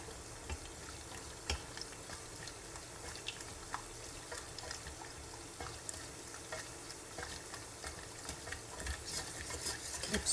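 Food browns in a pan on a stovetop during cookie baking and is stirred constantly, giving soft, repeated scraping strokes over a faint, low sizzle. The sound is quiet and close, with no talking.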